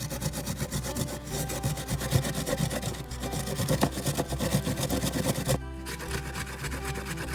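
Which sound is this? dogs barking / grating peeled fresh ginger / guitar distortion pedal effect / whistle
grating peeled fresh ginger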